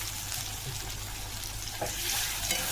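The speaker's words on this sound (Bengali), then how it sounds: "দিয়ে পেঁয়াজগুলো ভেজে নেব" Onions frying in a pan for a dhaba-style chicken dish, giving a steady broadband sizzle throughout with a couple of soft clatters near the end.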